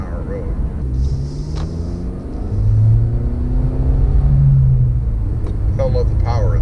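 A Honda Civic Type R accelerating on a 45 mph road, its engine rumbling loud and close with rising tones as it gains speed, while people talk over the sound.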